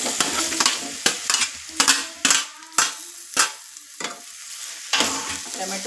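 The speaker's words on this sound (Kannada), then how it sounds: "ಟೊಮೆಟೊ ಕೂಡ ಚೆನ್ನಾಗಿ ಹುರ್ಕೋಬೇಕು ಎಣ್ಣೆಯಲ್ಲಿ." Tomato pieces frying in hot oil, stirred with a utensil that scrapes and knocks against the pan in repeated sharp strokes over a steady sizzle.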